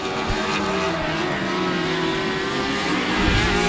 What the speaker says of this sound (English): Cars are flying by.